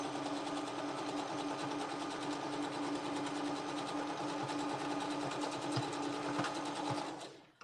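Continuous rapid whirring stitching of a sewing machine working on a memory blanket, close and steady for several seconds before stopping abruptly near the end.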